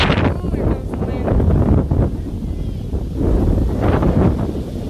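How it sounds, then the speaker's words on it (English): Strong storm wind gusting through trees during floods, a loud continuous roar with buffeting rushes swelling and fading, close up against the microphone. "Oh, here comes the wind."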